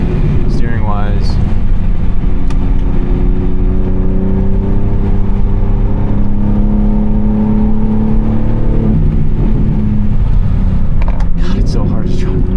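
A tuned BMW G80 M3 being driven, its engine running steadily with a smooth droning note that builds and then eases off, heard from inside the cabin over road noise.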